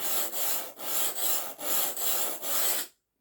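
A knife blade, from an Aurillac knife from Knives of France, rubs on a sharpening stone in steady repeated rasping strokes, about seven of them, close and fairly quiet.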